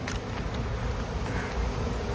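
Swarm of honeybees gathered in an unusual spot, a dense, close, continuous buzz of many wings filling the air with no letup and no talking.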